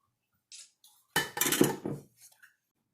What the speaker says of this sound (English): now we are adding 1/2 cup of Bailey's Irish cream, and now we're going to mix that